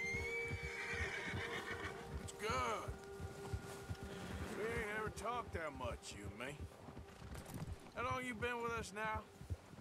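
A horse in the video game Red Dead Redemption 2 whinnies several times in rising, wavering bursts over a steady background hum, with people talking throughout.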